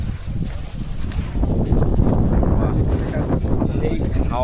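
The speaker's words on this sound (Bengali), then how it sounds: "সেই হাওয়া ঠান্ডা" Cold wind gusting by a river near tents, a steady roaring rush buffeting the microphone close up and building slightly louder midway, with no talk over it.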